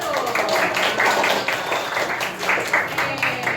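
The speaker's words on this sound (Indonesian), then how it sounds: "Tepuk tangan dulu." Classroom of children applauding during a maths lesson, a close burst of rapid, uneven clapping lasting several seconds with children's voices mixed in.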